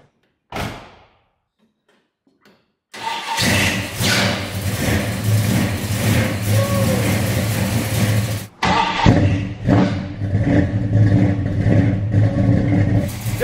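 A 1972 Dodge Dart V8 cranks and fires after a door slam and silence, then idles loud and rough with revs rising and falling, a brief stumble before catching again and running on strongly.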